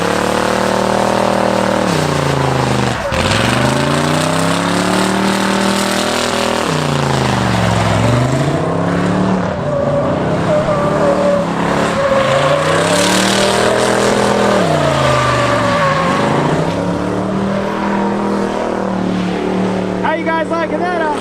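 A Le Mans car revs hard and repeatedly while burning its tires at the QA1 autocross, a loud continuous engine roar with rising and falling sweeps of acceleration and tire noise.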